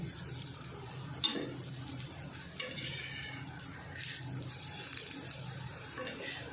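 Paneer paratha roasting in oil on a pan, with a continuous quiet sizzle and a few clinks and scrapes from a spatula.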